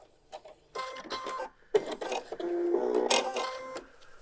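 A sewing machine reverse stitches along the edge of a Thermolam cafetière cover, with short whirring bursts of rapid mechanical ticking broken by brief pauses, close and loud with no talking.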